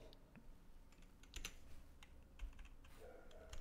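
Someone taps on a computer keyboard during 3D modelling work, producing quiet, sparse clicks with a few louder key strikes over faint room noise.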